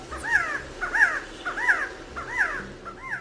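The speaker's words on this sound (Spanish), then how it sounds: "al frente de la pirámide de Kukulcán, cuando uno aplaude, se escucha claramente el sonido de un quetzal" Handclap echoes in front of the Kukulcán pyramid at Chichén Itzá, returning as five chirped, bird-like calls in a steady rhythm about every 0.7 seconds, fairly loud against quiet outdoor background.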